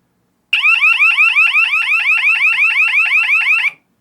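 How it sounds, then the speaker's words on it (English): A Radionics D7412G security alarm panel wails in rapid, repeating warbling chirps for about three seconds, then cuts off abruptly. "And now we'll just set it into alarm."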